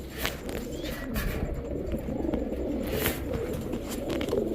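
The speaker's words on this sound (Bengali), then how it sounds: "এই যে রামপুরি আর একটা কবুতর পাওয়া গেছে, এটা হচ্ছে রামপুরি নর।" Rampuri pigeons coo steadily nearby, low soft throaty calls overlapping in a continuous murmur with no voices.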